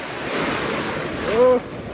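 Sea waves wash onto the shore in a continuous close surf roar buffeted by wind noise, with a faint voice briefly audible.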